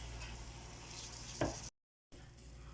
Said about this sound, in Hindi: इसको फ्राई होने देंगे, यहाँ से कुक होने देना है.